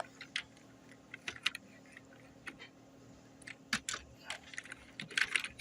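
Quiet, quick keystrokes on a computer keyboard as text is typed into Notepad on Windows 10, irregular clicks in short bursts, heard close with no talking.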